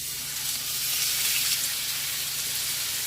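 A brisket sears fat side down in a hot pan, giving off a loud, continuous sizzle and hiss that stays steady throughout with no voices.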